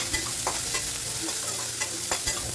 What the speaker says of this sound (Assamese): আৰু ইয়াতে মই কেঁচা হালধিও দিম, সেইখিনিও অকণমান ভাজি ল'ম।